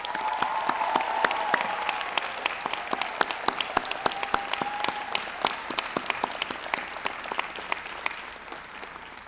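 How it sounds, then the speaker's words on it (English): Convocation audience at a spring graduation ceremony gives a sustained round of applause for the graduates' supporters, with dense clapping and scattered louder individual claps standing out over steady crowd noise. "Let's give a round of applause for your supporters."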